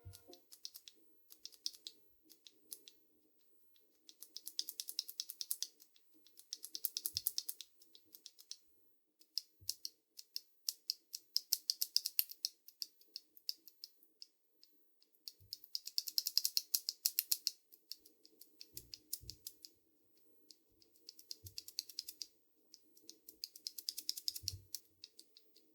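Four Corsair MAKR 75 keyboard switches pressed in turn, each set a burst of fast, crisp clicky-clacky keystrokes separated by short pauses and a few louder isolated taps, heard up close with no talking.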